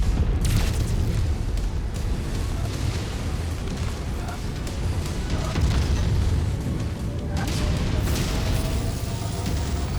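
PPCs fire repeatedly during a MechWarrior 5 battle, producing a loud, continuous wash of booming energy discharges and crackling bursts over a heavy rumbling bed, with periodic sharper blasts standing out.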